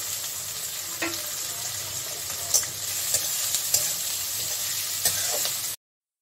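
Coarsely chopped onions, two fairly large ones, hit hot oil for a chicken curry and sizzle steadily, with a few sharp spatula clicks and scrapes against the pan, close and fairly loud, no voices.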